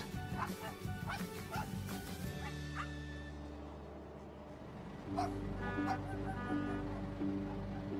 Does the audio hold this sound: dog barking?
yes